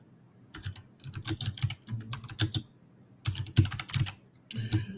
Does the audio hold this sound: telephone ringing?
no